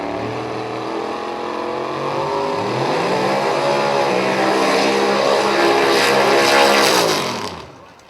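A 1964 Chevy II and a Mustang launch at a limited 275 class drag race event, with loud, sustained engine roar that rises in pitch as the cars accelerate away, then drops off sharply near the end.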